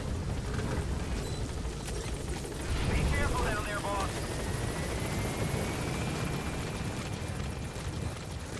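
A helicopter flies in the Metal Gear video game, with a steady engine and rotor rumble running throughout at moderate level. A game character's voice speaks briefly over it.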